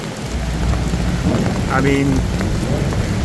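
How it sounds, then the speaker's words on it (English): Heavy tropical downpour in Bangkok's Sukhumvit district during extreme flooding, a loud, dense, steady roar of rain on surfaces close by, with a brief voice speaking over it. "this is the heaviest rain that I've seen"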